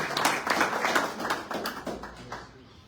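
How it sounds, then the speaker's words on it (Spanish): Audience applause at a book launch for a science and education volume, a burst of hand claps that starts strong and gradually thins out over a few seconds. "Un fuerte aplauso, por favor, para el doctor Leandro Rodríguez Valverde."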